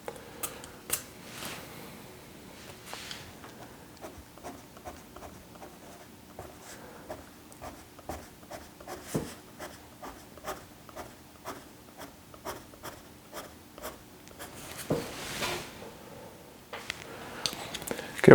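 White colored pencil pressed hard while shading on sketchbook paper, drawing a blue heron: steady close scratchy strokes in quick repeated rhythm, faint and continuous, with no talking.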